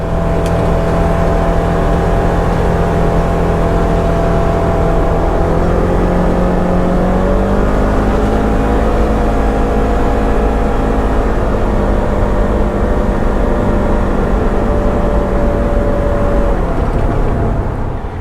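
A Polaris General UTV drives fast down a road at night, its engine a loud, steady droning roar that holds for a long stretch, with the pitch rising slightly midway.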